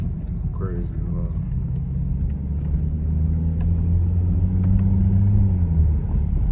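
A 400 hp BMW 335i driving up a steep road, engine rumbling and pitch climbing steadily through a gear, loud and close from inside the car, with a brief voice near the start.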